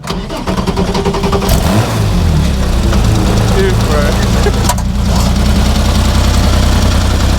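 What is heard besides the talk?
1974 Porsche 911S engine revving and idling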